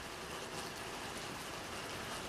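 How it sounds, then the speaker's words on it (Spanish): Heavy rain lashes a street as an audiobook sound effect, a steady dense hiss of falling water and drops spread evenly throughout, with no voices. "La lluvia azotaba la calle con salvajes remalazos de furia"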